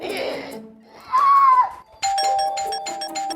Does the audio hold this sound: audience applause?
no